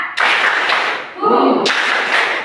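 A classroom of pupils claps together in two loud, dense bursts of many hands, separated by a short gap filled with voices calling out.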